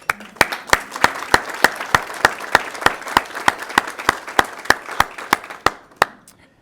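Applause from the audience at a Daughters of the American Revolution address comes as evenly spaced, sharp, close claps at a steady pace, about three per second, before fading out near the end.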